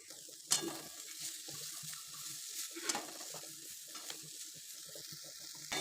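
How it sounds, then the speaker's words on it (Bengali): Bitter gourd (karela) fries quietly in a pan, a soft continuous sizzle broken by a few sharper crackles and stirring scrapes, heard close with no talking. "আর এদিকে আমি করলা ভাজা বসিয়ে দিয়েছি"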